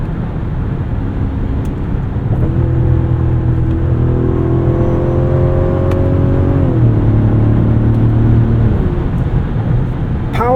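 A 2025 Mazda CX-70 3.3 Turbo S Premium Plus, 340 horsepower, accelerating while driving: a steady engine drone climbs in pitch over several seconds, then drops as it shifts and keeps pulling, loud and continuous from inside the cabin.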